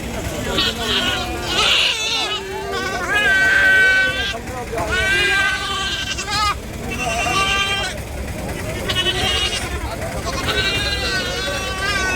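Young male goat kids bleat repeatedly at a livestock market in Nimmiyampattu, Tirupattur district, their calls overlapping in a busy, close chorus while people talk throughout.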